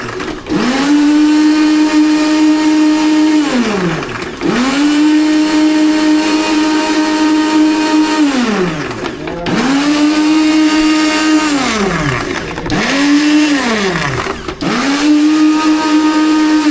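A household blender crushes ice for a frappe, or blended iced coffee, in loud, close bursts. The motor whine rises and falls as it stops and restarts about five times, with no talk.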